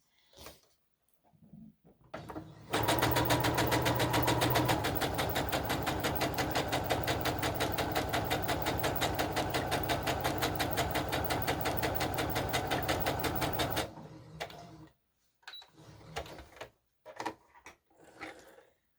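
A sewing machine stitches a sleeve for a doll bodice, a loud rapid mechanical whir running steadily for about eleven seconds, framed by quieter handling clicks and rustles before and after.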